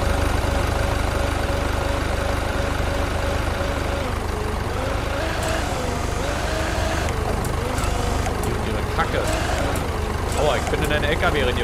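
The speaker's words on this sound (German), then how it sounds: "LKW reingefahren, sorry." A truck engine in the Beer Factory video game, a steady low idling drone running throughout with shifting tones layered on top, while a person talks over it.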